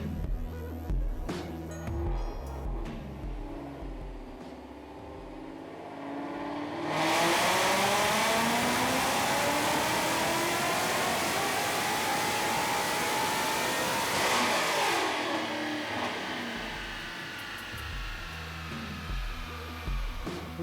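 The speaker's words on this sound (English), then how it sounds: "Let's get it up on the dyno here and make some power." A 2017 Roush supercharged Mustang with Dynatech long-tube headers and the stock Roush axle-back exhaust is run up on a dyno, idling, then roaring through a long sustained wide-open pull of about seven seconds before settling back to a rumbling idle.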